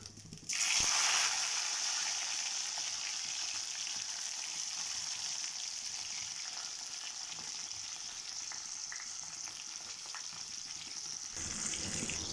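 Tomatoes drop into hot oil already crackling with mustard seeds for a capsicum curry, setting off a sudden loud sizzle that settles into a steady, close frying hiss, with a brief stir near the end.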